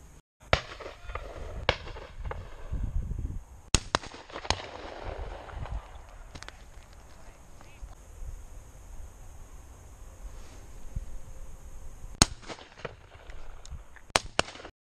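Shotgun shots at a pheasant, duck and goose shoot: a handful of sharp, fairly distant bangs spread irregularly across the stretch, with quiet outdoor ambience between them.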